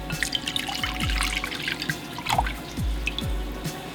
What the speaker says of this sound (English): I'm going to add some orange juice.